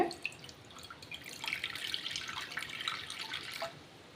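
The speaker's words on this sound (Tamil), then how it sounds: "ஸ்டவ் ஆன் பண்ணி ஒரு பேன் வச்சு ஒன்றே ஹால் கப் தண்ணி ஆட் பண்ணிக்கோங்க" About half a cup of water is poured into a pan set on a stove, a soft, faint splashing trickle that runs steadily for a few seconds and then stops, with no talking.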